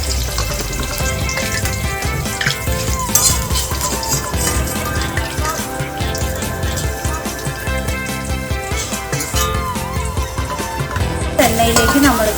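Dried fish fries in hot oil in a pan, giving a steady, fairly loud sizzle and crackle with some clatter as it is stirred, running without a break for the whole stretch.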